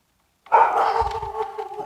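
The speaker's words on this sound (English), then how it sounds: "There goes my schizo dog." A single dog barks nearby in a backyard, one drawn-out, whining bark that starts abruptly after silence and tails off into a wavering yelp.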